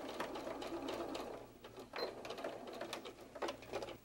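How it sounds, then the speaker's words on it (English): Sewing machine running steadily as it stitches a quarter-inch straight seam across a flattened fabric tail on a bird softie, a continuous close mechanical whirr with brief pauses and light handling noises. "stitch a quarter inch straight across the tail"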